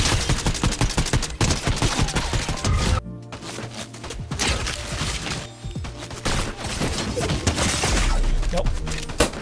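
Rapid bursts of gunfire from a Fortnite match ring out loud and dense, with the shots stacking into fusillades and weapon mechanisms clacking between them, and a short lull near the middle.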